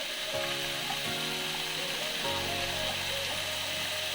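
Carrots tossed into a pan of frying chicken for a Kolkata-style white chicken stew, a steady close sizzle with a few brief clatters of the vegetables landing.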